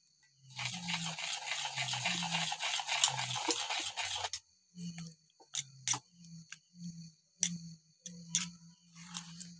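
White cooking oil gets mixed into banana cake batter, a bowl whisked in a fast continuous run and then in short separate strokes with low thuds and bright scraping ticks.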